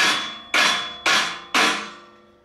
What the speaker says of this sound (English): your rubber hammer and just get them in there